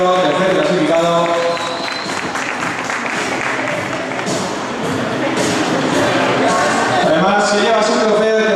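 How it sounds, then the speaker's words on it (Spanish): A crowd applauds the third-place finisher at a karting championship prize ceremony, a broad wash of clapping running beneath a loud announcer's voice for the whole stretch. "Fuerte aplauso para Alejandro, tercer clasificado."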